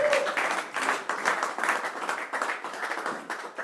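A church congregation applauding, standing together during a sermon, in steady, rhythmic clapping that fills the room at moderate volume throughout.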